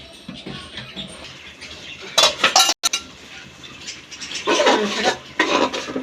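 A lid goes onto a pot of homemade beef biryani with a short cluster of close metallic clanks and clinks, then a quieter rattling scrape a moment later over a faint room background.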